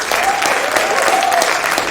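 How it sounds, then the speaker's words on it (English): An audience at the East Africa's Got Talent judges' unveiling breaks into dense, sustained applause, loud and close, with a voice faintly heard over the clapping. "Let's give a hand clap for Anne Kansiime"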